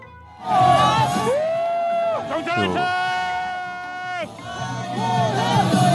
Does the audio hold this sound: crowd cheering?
yes